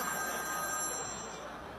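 A telephone rings steadily and continuously amid a noisy, crowded live variety-show setting, the ringing sitting under a wash of background chatter and crowd noise.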